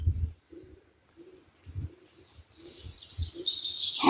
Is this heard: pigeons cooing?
yes